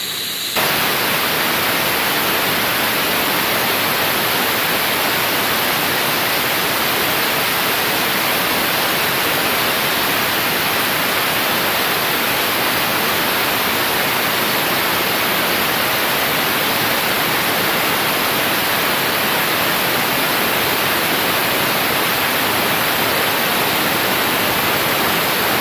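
A steam boiler safety valve venting at 140 psi, a loud, steady hiss of escaping steam that bursts on abruptly at the start and then holds constant and close without letup.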